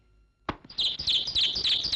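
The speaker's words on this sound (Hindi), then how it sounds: "ये एक ही चिड़िया जिसने आकर अपना घोंसला बनाकर रखा हुआ है" A small bird chirps near its nest in a quick run of bright, repeated tweets that follows a single sharp knock, close and fairly loud with no talk.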